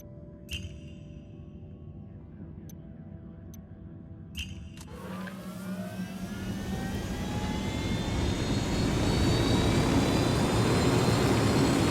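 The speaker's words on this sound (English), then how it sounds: "Oye, we got your helicopter." Engine roar from a helicopter in the video game Ghost Recon Wildlands, steady at first and then swelling louder and brighter as the aircraft draws close, with a rising whine building over the final seconds and no talk.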